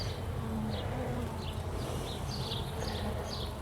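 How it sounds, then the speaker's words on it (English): A dense, steady drone of many honeybees buzzing inside an opened top-bar hive fills the space, close and continuous, with no talking. "The bees are starting to get mad at me."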